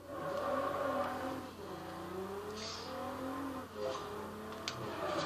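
A Nissan GT-R accelerates in the Fast and Furious game on Xbox 360, its engine note rising and shifting in sweeping pitch glides, fairly faint and steady.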